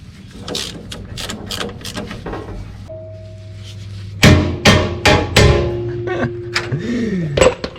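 Twelve-millimetre crossmember mount bolts being undone underneath a Toyota Hilux N70 during a clutch replacement: sharp close metallic clanks and ratcheting clicks, a steady hum in the background, and a squeaky rising and falling tone near the end.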